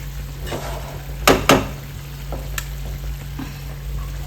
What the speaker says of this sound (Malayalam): കറി നല്ല തിളച്ചേ